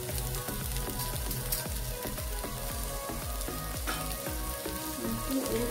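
Onion masala fries in a pan for egg curry, a steady sizzle close up, with a regular train of low knocks and scrapes from stirring running alongside it.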